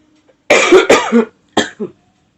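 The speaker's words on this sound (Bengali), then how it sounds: "আমার আবার একটু কাশি হচ্ছে" Two close, loud coughing fits, the first a rapid run of several coughs, the second a shorter pair, separated by brief silence.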